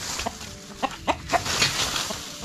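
Chickens clucking inside a coop on a small farm, several short close clucks scattered over a low background hum.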